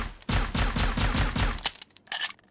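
Rapid burst of close gunfire from the GSR in Critical Ops, about six loud evenly spaced shots in quick succession, then a short pause and a mechanical clatter near the end.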